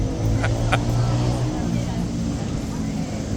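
Steady road traffic roars close by on a street, a constant broadband rumble of passing cars with a low engine drone, running throughout the clip.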